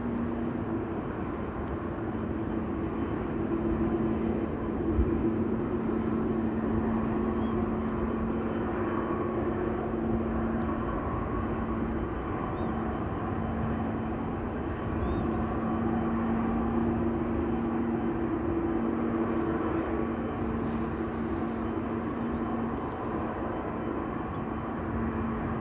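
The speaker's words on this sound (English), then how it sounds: "A350-1000 is on the move" An Airbus A350-1000 rolls at Amsterdam Schiphol Airport, its jet engines producing a continuous low steady drone with a tonal hum, heard at a distance and unchanging throughout.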